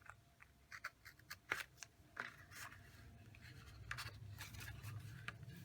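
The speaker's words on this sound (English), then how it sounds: "And on this, you're going to miter this side of the tab. So if I have it like this, I'm going to cut in this way." Scissors snipping through a paper tab on a Stampin' Up! gift box, a series of soft crisp cuts and paper rustles close by, fairly quiet.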